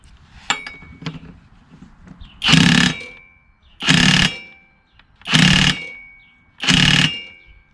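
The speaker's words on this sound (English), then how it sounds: "want to say it's a 1-inch socket on a 1/2-inch impact." A Chinese-made Mancella 1/2-inch impact wrench driving a 1-inch socket fires four loud, evenly spaced bursts of hammering rattle, each about half a second long, after a few faint clicks and knocks.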